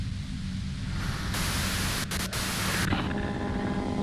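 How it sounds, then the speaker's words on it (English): Broadband white noise in the Disco Elysium video game, a steady, loud static hiss that swells brighter in the middle and carries on without voices. "If you've got something really important to say, you can do it through the white noise."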